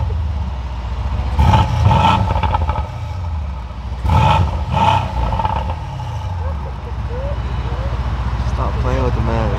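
Two strong revving bursts from a 2021 Mercedes C63S AMG with its exhaust valves closed, rising and falling loudly close by, with people talking in between.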